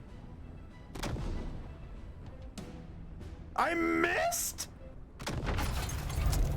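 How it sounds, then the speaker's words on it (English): Cannon blasts in the video game Blue Protocol Star Resonance, several heavy booms with a burst of crackling effects in between, under excited game-reaction talk. "Fire the cannon!"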